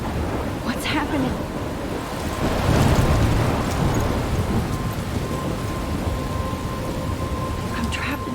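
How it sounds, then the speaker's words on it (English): Thunderstorm with steady heavy rain from the video game Life is Strange, rumbling thunder swelling near the middle over a constant downpour that fills the whole stretch. "I'm trapped in a storm?"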